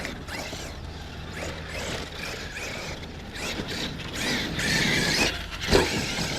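Whirring mechanical drivetrain noise from the differentials of a Losi LST 3XL-E RC truck on 6S power, steady and close, with bursts of gear whine and creaks rising near the end.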